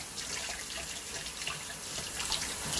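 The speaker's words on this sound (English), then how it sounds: "Wash my hands." A kitchen tap runs steadily while hands are washed free of flour under the stream, a close, continuous hissing splash with small changes as the hands move through the water, with no talking.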